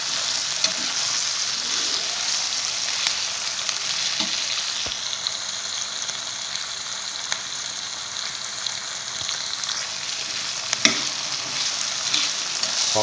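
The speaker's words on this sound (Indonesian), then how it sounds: "masakan cokak sama teri, tumis cokak sama teri guys" Cokak and anchovies stir-fry in a pan, a steady crackling sizzle that runs throughout with occasional taps and scrapes of a spatula, fairly close, with no voices.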